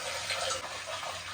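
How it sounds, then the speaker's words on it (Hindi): Lentils (dal) being rinsed in water in a home kitchen, a steady soft wash of sloshing and splashing held close and continuous, with no talk over it. "तो अब पहले दाल को अच्छे से वॉश करते हैं।"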